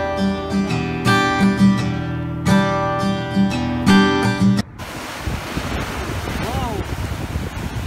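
Ocean surf washes along the Jeddah Corniche on the Red Sea, a steady broadband rush of waves with wind buffeting the microphone, following a stretch of loud music at the start.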